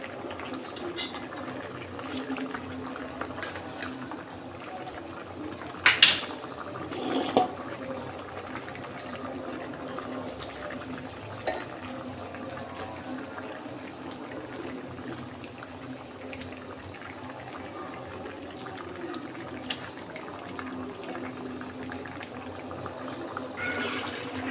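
Fish curry with potato and eggplant simmers in a pan, a faint, steady bubbling hiss that runs throughout, broken by a few sharp utensil clinks near the middle.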